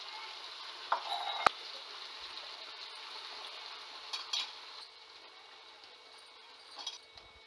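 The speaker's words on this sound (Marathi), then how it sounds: "आता आपण पाहू शकता आपली ग्रेव्ही छान शिजलेली आहे, तिला छान उकळी देखील आलेली आहे, त्यामध्ये आपण आता सोयाबीन सोडून घेऊयात" Soaked and squeezed soybeans are stirred into a spiced, boiling gravy for an Indian soybean curry, giving a soft, bubbling sizzle with a few scraping clicks of a spoon against the pot.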